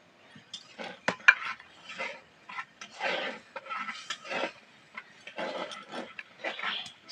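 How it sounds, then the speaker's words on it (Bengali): Eggplant curry with sour yogurt being stirred in a pan in a village kitchen: repeated scraping and clinking of a spoon against metal in irregular bursts, with a faint sizzle between strokes, close and fairly quiet. "আর অনবরত নাড়তেই থাকবে।"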